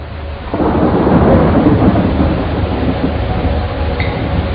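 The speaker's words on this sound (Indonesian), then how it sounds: "Malam itu, Bandung diguyur hujan yang lebat." Heavy rain pours in a dense, continuous hiss while a deep roll of thunder swells and rumbles through, loud and close, with no voices.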